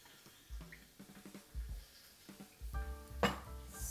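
Water poured into a frying pan holding daikon and miso, a quiet splashing and gurgling with a few soft clinks of the pan, close and low in level.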